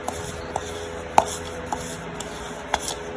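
A thick shea butter mixture stirred in a bowl for a homemade cream, giving a soft scraping rub punctuated by several light clicks and taps, close up and quiet, with no talk.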